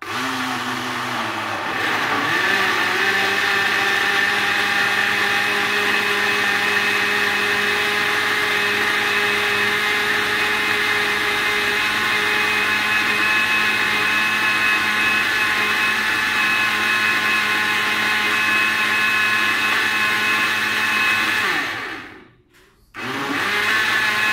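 A blender whirs steadily as it blends detox drink ingredients, a loud sustained motor drone lasting about twenty seconds, then briefly cutting out near the end before restarting.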